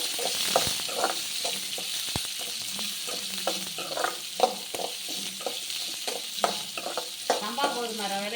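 Ginger, garlic and onion sauté in a hot pan with a steady broadband sizzle, while a spoon scrapes and stirs at an uneven pace, clicking and rustling up close. No one speaks.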